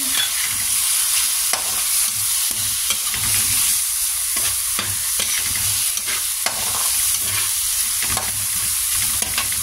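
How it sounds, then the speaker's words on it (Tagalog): Shrimp dropped into a pot of cooking for suam na mais, a loud close sizzle running throughout, broken by repeated scraping and stirring strokes in an irregular rhythm. "Lagyan na natin tong hipon."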